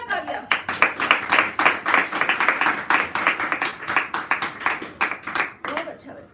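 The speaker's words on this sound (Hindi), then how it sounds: "तो जोरदार तालियां" An audience at a musical puja claps loudly in a brisk, steady rhythm of dense beats, close and continuous, with voices mixed in throughout.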